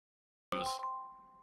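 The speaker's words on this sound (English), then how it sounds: "It makes this chime sound." A chime from Continuity Camera on an iMac: a single bright bell-like tone that strikes suddenly and rings on with a steady, slowly fading sustain, heard alone and fairly close.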